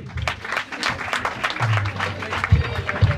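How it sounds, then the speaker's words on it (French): Audience applause at a student awards ceremony, a moderate spread of clapping from a crowd with some voices and low rumbling underneath. "Applaudissements, s'il vous plaît."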